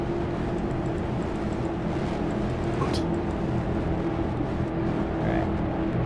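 ROX Mod race cars roar together on the Richmond track in a dense, continuous engine drone, with a commentator talking over the noise.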